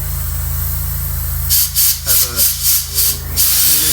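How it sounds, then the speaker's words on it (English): Bursts of compressed air hiss into a vintage mower's fuel hose in several short pulses over a steady mechanical hum, loud and close. "you create a positive pressure at this end with some compressed air"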